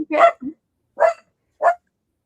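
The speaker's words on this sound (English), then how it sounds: "Was that a sound effect or a real dog?" A dog gives three short barks, spaced about half a second apart, close and fairly loud with silence between them, during a live stream.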